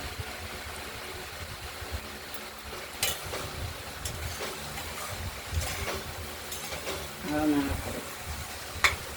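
Ash gourd curry, chopped fine and seasoned with black cumin and garlic, sizzles softly in a pan while being stirred, with intermittent scraping clatters over a low steady hum.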